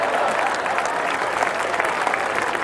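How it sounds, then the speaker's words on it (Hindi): An audience at a Hindi poetry recital in Chhattisgarh applauds steadily for the whole stretch, a dense, even wash of clapping hands with no pauses or talk over it. "ताली बजाओ"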